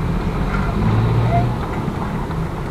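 A truck crane's Chinese diesel engine drones steadily throughout, a rough rumbling idle with faint wind noise over it.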